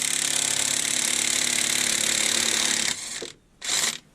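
Loud, steady impact-gun chatter breaking loose a harmonic balancer bolt with a 24mm socket on a 1/2 inch drive on a 3.8L fourth-gen Camaro, running continuously before cutting off, then one short final burst.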